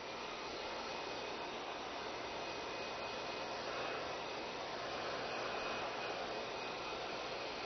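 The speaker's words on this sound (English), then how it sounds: "Now I'm going to take a blow dryer. We're going to dry it." A blow dryer dries a turkey tail, its steady, loud rushing whir running unbroken and close with no talk.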